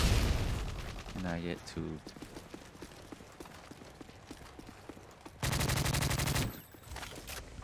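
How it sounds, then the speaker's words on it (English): Suppressed M4 assault rifle with extended magazines fires in a video game team deathmatch on the Lockdown map: rapid muffled bursts, the longest near the end, while someone talks over the action. "Nobody knows where I am because I'm using this M4 in silence, and I love it."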